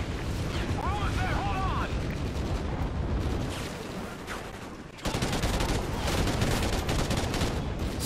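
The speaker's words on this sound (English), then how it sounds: "Stop shooting me while I'm trying to shoot you." Dense, continuous gunfire and explosions in the Call of Duty: Ghosts campaign mission Homecoming, loud and sustained throughout with a brief lull before the barrage intensifies again, with voices and game chatter mixed underneath.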